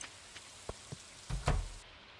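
Rain falling in Stardew Valley, a soft quiet wash with a few scattered drop taps, swelling into a louder splashy patch near the end.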